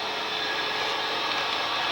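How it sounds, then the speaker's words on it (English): A vacuum cleaner sucking up dust inside a VW van, a steady loud whooshing drone with a high airy hiss and no breaks. "I've got a vacuum cleaner going in here to just suck up some of this dust"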